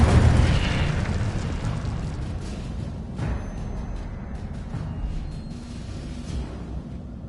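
Fiery spell blast from the Incendio charm in a Hogwarts wizarding video game, a loud whooshing burst at the start that rolls into a sustained crackling roar, with softer pops and rumbles following.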